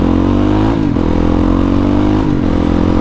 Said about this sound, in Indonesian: Knalpot ini terus dibobok lagi sama saya. Jadi suaranya agak-agak lebih enak lah.